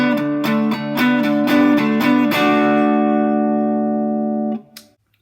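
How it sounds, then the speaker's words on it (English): Four-string cigar box guitar through its neck pickup: a quick run of repeated picked notes, then a chord left to ring and fade, clear and upfront with no talking. "there's a pretty good difference in the tone especially between the bridge pickup and the neck pickup"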